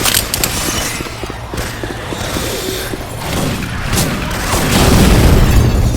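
A grenade blast in Left 4 Dead 2 with swapped-in Syphon Filter weapon effects, a broad booming rumble that swells louder toward the end amid scattered crashing clatter, with no talk.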